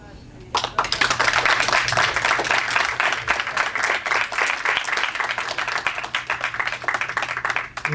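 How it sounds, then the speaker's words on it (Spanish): An audience applauds a film director at the close of a post-screening debate in Buenos Aires, a dense, steady clapping that starts abruptly and carries on loud and close for several seconds. "démosle un aplauso al director."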